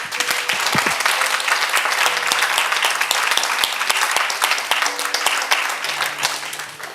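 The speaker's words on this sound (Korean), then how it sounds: "우리 여러분 한번 그렇게 하실 하나님께 큰 영광의 박수 한번 올려드립시다." A church congregation breaks into loud, sustained applause that fills the whole stretch, dense clapping from many hands with no speech over it.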